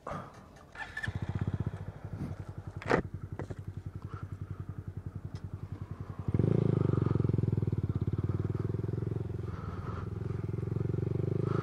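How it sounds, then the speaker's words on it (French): A motorcycle with an open, unbaffled low-mounted aftermarket exhaust idles with a loud, rapid popping rumble, then the throttle opens and the engine holds a deeper, louder roar. "On va faire un petit aperçu du bruit du pot en libre."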